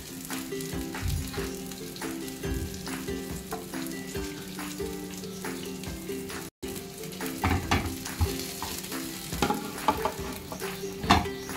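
Pomfret (paplet) fish fry in a pan with a strong, steady sizzle and crackle, interrupted by a momentary dropout midway, then punctuated by sharper spatters and utensil clatter, with no talking.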